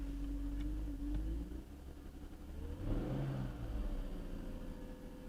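A car that has sat unused for over a month idles with a misfire, a low, uneven engine rumble that swells briefly as if revved, close and alone without talk.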